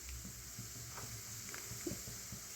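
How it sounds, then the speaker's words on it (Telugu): Finely chopped green chillies dropped into hot oil with tempering dal for a cucumber curry, giving a soft continuous sizzle broken by a few light stirring clicks and spatula scrapes. "సన్నగా తరిగి పెట్టుకున్న పచ్చిమిరపకాయలు వేసేసుకుంటున్నాను"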